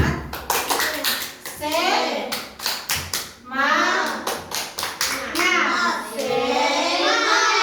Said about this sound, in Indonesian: Ayo kita tepuk semangat lagi